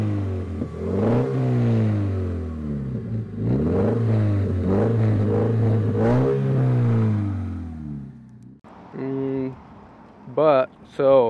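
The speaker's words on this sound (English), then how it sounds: "We do have a muffler delete, axle back. Sounds pretty good. I'll play some exhaust clips now." A 2013 Scion FR-S engine with an axle-back muffler delete revs up and down repeatedly with a loud, raspy exhaust note, then a few shorter sharp blips near the end.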